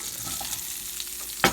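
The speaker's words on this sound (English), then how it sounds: "All I'm going to do is dump out that hot oil" Hot oil from a sausage skillet being dumped out, a steady close frying sizzle that runs throughout and ends in a brief sharp splash.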